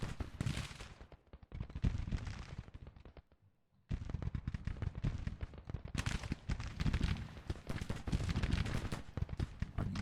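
Massed musket volleys crackle in Grand Tactician: The Civil War, a dense, rapid rattle of shots that briefly falls silent before resuming in heavy, continuous bursts.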